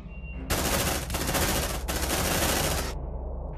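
Sustained automatic gunfire in the Aliens: Dark Descent video game, shooting at an alien: a loud, dense burst of rapid shots lasting over two seconds, with a brief gap partway through, then a lingering rumble.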